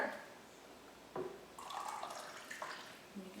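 Hot water poured for hot buttered rum, a brief splash near 1.2 s followed by a steadier trickling pour with faint dripping, fairly close and moderately loud.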